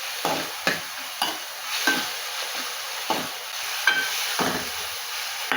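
Hot oil sizzles and crackles steadily as spices are tempered for rasam, with repeated sharp stirring scrapes at a regular pace, close and fairly loud.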